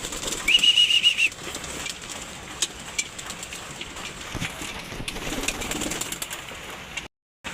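Pet racing pigeons flutter and shuffle while being fed on a rainy evening, with scattered wing flaps and soft pecking over a constant patter of rain. A brief high whistle sounds early, and no one speaks.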